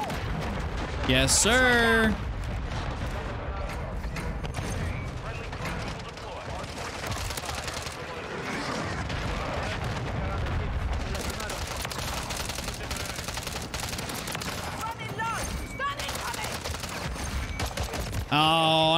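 Airstrike explosions and bursts of gunfire in Modern Warfare 3, dense and continuous for the whole stretch, with a brief spoken reply over the battle noise.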